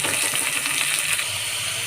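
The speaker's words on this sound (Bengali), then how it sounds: "হালকা ভেজে দিয়ে দিচ্ছি কাঁচা টমেটোগুলো।" Chopped green tomatoes frying in hot oil in a pan, giving a loud, steady hiss and crackle close up that fills the whole moment, with no voices.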